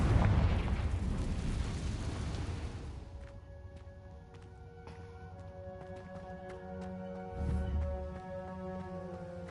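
A Confringo fire spell explodes in Hogwarts Legacy, opening with a loud, broad blast that rumbles off over about three seconds. Tonal game music and effects take over afterward, with a second low thump late on.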